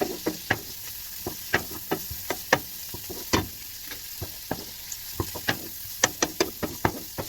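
Rice and lentils fry in butter in a pot while a spoon stirs quickly, giving a soft steady sizzle punctuated by sharp scraping clicks at an uneven, brisk rhythm, close and moderately quiet.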